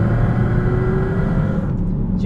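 A Porsche Cayman GT4 RS engine pulls at around 2,000 RPM on a rough road, giving a loud, low, gruff drone with rising intensity that holds steadily for a couple of seconds.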